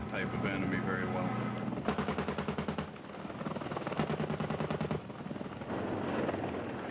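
An Apache helicopter's machine gun fires in rapid bursts of rattling shots amid combat noise, loud and close, with a narrator's voice in Spanish talking over parts of it.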